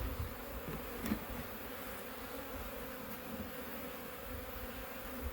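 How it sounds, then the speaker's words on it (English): Honey bees buzzing on a beehive's inner cover, a soft, continuous close hum with a few brief louder passes. "Got some bees on the inner cover."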